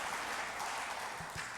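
A short stretch of steady audience clapping for a professor at an academic panel on development in Africa, fairly even throughout.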